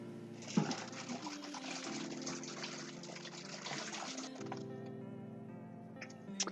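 Mushrooms are rinsed under a running kitchen tap while making vegan ramen, a steady close stream of water with shifting tone as the flow hits them, fairly quiet with a faint background hum.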